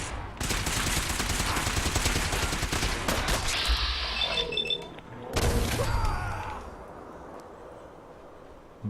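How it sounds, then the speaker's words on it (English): Tesla shotgun in Fallout 4 firing a rapid barrage of crackling electric blasts, loud and sustained for several seconds, then a pause and a second heavy burst that fades into a ringing tail. "Tesla shotgun, more or less."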